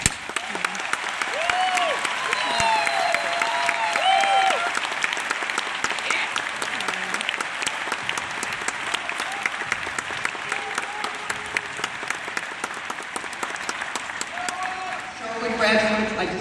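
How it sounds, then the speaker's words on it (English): Sustained applause from a large audience at a high school graduation ceremony, dense clapping that holds steady and loud, with a voice briefly audible near the end. "Audience, please join me in a round of applause for everything that the class of 2014 has accomplished"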